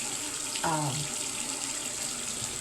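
Tap water streams steadily from a faucet to wet a lip brush, a close, continuous hissing flow with a brief clunk or shift in the stream partway through.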